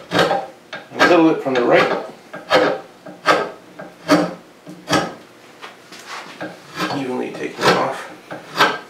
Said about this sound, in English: So I try to carve a little bit off from the left,